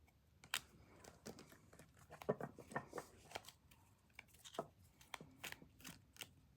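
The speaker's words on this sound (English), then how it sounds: "since I got them unstuck, they're shuffling pretty good" Hawaiian tarot cards being shuffled by hand, close and quiet, with irregular crisp riffles, slaps and papery crinkles in uneven bursts and no talk.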